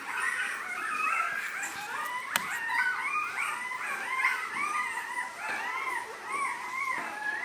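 Rottweiler puppies in a litter whimper and give thin, wavering howls, a steady chorus of high cries rising and falling close by, with no talking.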